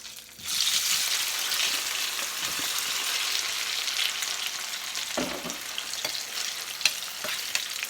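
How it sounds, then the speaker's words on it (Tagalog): Potato pieces for chicken kaldereta hit hot oil and break into a steady, close sizzle that holds for several seconds, with a few faint stirring clinks and no voices. "Now we'll fry the potato."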